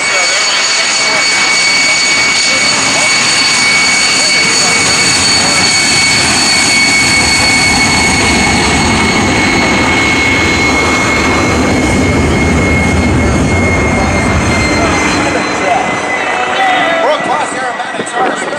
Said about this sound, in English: World-class aerobatics are a spectacle, but almost nothing comes close to the performance of the Russian designer-built Sukhoi 29